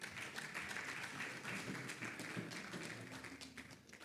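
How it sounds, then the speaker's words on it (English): Applause from an audience at the closing ceremony of an industrial summit, a fairly quiet, steady patter of clapping that fades slightly toward the end. "I think all of us here should give ourselves a big round of applause."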